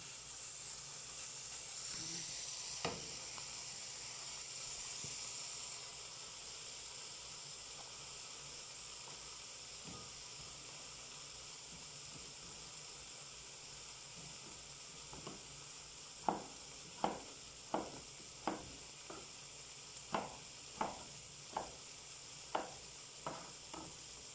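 Shawarma meat frying in a pan, nearly browned, hisses in a constant close sizzle, joined midway by a regular run of sharp taps and scrapes from stirring.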